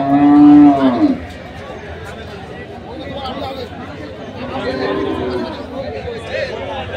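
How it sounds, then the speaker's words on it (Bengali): Local-breed dairy cows at a village cattle market give a loud nearby moo at the start, followed by busy market chatter and talking voices, with a fainter second moo partway through. "সুন্দর সুন্দর কিছু গাভী গরু।"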